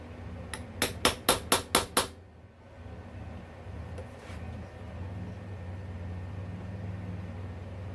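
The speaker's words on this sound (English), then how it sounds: "put it on an extension, and just tap it in on top of the spark plug" A tool taps on top of a spark plug on an extension, working it loose from a 2019-2023 Yamaha YZ250F engine. Six sharp, evenly spaced metallic taps ring out close up, followed by a quiet room background.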